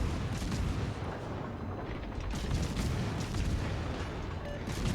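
Warship naval guns firing in a video game, a dense continuous roar of heavy gunfire and booming blasts that stays loud throughout with no pauses, nobody speaking.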